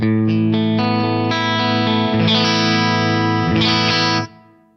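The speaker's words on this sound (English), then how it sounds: "here is the obligatory clean sound with the pedal bypassed" A clean electric guitar, with a Line 6 DL4 pedal bypassed, rings out sustained chords, the first shifting midway, with a second strum later, then fades as the strings are damped.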